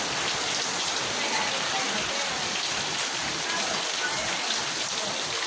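Heavy rain pours steadily, a dense, continuous hiss of drops pounding surfaces close by, with no pauses and no voices.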